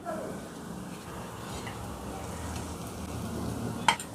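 Oil sizzles in a hot pan while a dosa cooks, a soft continuous frying hiss with light stirring, and a short clink of a utensil near the end.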